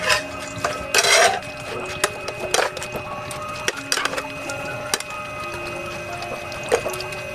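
Camote cue, sweet potato pieces coated in sugar, is stirred in a pan with a utensil, giving sporadic scraping and knocking bursts with sizzling underneath, close and fairly loud, with no talk.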